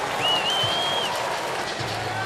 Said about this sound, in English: And a derisive cheer from the crowd.